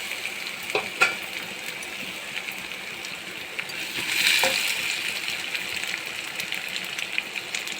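Grated raw mango with roasted peanuts sautéing in a pan, a steady soft sizzle with a few spoon knocks and a brief louder hiss of stirring partway through.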